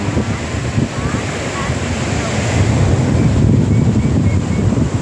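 Loud wind buffets the microphone while sea surf rolls and washes continuously nearby on the beach at Laem Mae Phim, Rayong, Thailand, a dense roar that builds slightly toward the end.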